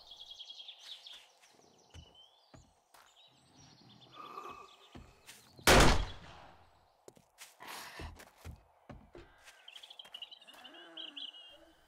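A single loud gunshot rings out midway through a zombie-survival session in the game 7 Days to Die, standing out against quiet ambience with bird chirps and scattered footsteps.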